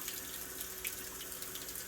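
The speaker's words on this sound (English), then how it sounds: "The first step is to clean the squash with cool water and soap." Cool tap water runs over a fresh butternut squash being cleaned at a sink, a soft, steady faucet stream heard faintly and alone.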